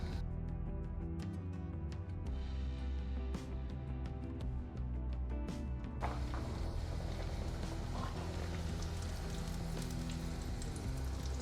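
Veg burger patties frying in hot oil, a continuous bubbling crackle and sizzle that grows denser and hissier partway through, close and steady with no voices.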